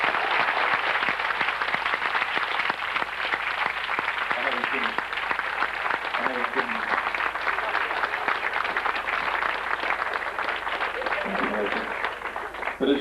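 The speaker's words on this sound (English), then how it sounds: "could we please give them another round of applause?" Sustained audience applause fills a school hall after a 1991 St Spyridon College stage production of A Man For All Seasons, with dense steady clapping from start to finish and a few voices mixed in.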